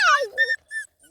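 A small puppy gives a few high, thin whimpers close by. There are two or three short squeaky cries separated by brief pauses.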